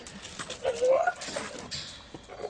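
A pit bull with a white face patch, white chest and white-tipped rear toes whimpers in a short rising whine, heard close and over background talk and other noise.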